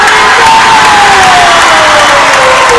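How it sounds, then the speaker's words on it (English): A crowd at a junior varsity boys' basketball game in a gym rising in a standing ovation, loud sustained cheering and applause with shouting kids, dense and close throughout, a whistle-like tone gliding downward. "He gets a standing ovation from this crowd"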